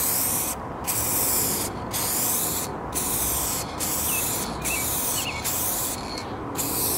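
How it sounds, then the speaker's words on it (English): A Montana Goldchrome spray paint can fitted with a fat cap hisses in several loud, close bursts, separated by brief pauses. "So let's do a quick little test spray here."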